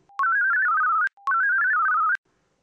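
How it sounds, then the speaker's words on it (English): Two identical electronic tone bursts from an iPhone mobile payment terminal playing an audio one-time password, each about a second of rapidly warbling melodic beeps with a sharp click at start and end, loud and close, separated by a short gap. "plays a special one-time password on the iPhone that has to be listened to through the customer's mobile phone"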